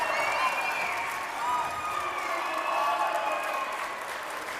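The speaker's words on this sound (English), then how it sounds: "Just listen to that crowd" A big crowd at a women's college basketball quarterfinal, Oregon Tech against Bushnell, roars and cheers with steady applause in a loud, sustained wash, and an announcer's voice rides over it.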